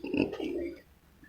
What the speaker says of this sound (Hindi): ये सब हमारे घर के कबूतर हैं।